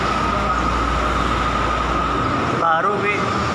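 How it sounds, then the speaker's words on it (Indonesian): Steady rumble of the Kaligung passenger train rolling into Brebes station, Java, with a constant loud hum and a brief warbling tone near the end. "kereta Kaligung relasi Cirebon Perujakan Semarang Poncol"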